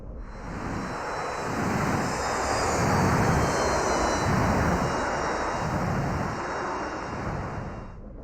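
An F-104G jet engine roars steadily in a flight simulator as the aircraft spins, a broad, loud, continuous rush that swells and eases slightly with no voices.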